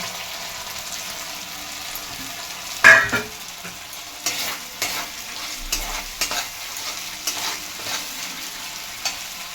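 Fried capsicum stirred into a well-sautéed spice paste for shahi capsicum paneer: a loud clatter as it lands, then continuous sizzling with repeated spatula scrapes across the pan.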